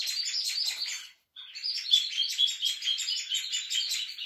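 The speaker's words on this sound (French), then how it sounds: "Il y a plein d'oiseaux dans ce jardin." Birds in a garden chirp in a busy, continuous chorus of high tweets, bright and fairly close, with a brief gap before the chatter resumes; no voices.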